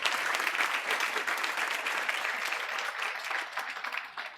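A round of applause from an audience at a certification ceremony, thick continuous clapping that holds steady then begins to thin toward the end.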